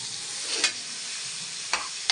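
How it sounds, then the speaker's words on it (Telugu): Boiled chicken is stirred into a sizzling masala chilli paste in a pan, giving a steady frying hiss broken by a few quick scraping stirs. "ఇందులోకి మనం ముందుగా ఉడికించి పెట్టుకున్న చికెన్ వేసుకోవాలి. చికెన్ వేసి బాగా కలుపుకోవాలి."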